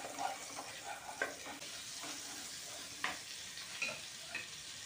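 Butter melting in a pan for Afghani chicken gravy, giving a soft, steady sizzle with light scraping touches now and then, quiet and close with no voices.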